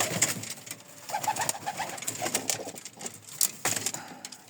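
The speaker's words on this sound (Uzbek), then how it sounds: "mana kaptarlar yig'ildi." A gathered flock of pigeons coos softly and repeatedly nearby, low murmuring calls overlapping against faint background noise.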